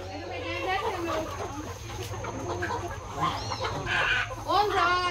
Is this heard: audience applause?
no